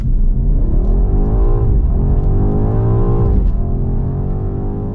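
BMW M car accelerating hard, a loud, continuous engine roar with rising pitch that drops briefly at each gear change, then climbs again, close and with no voices.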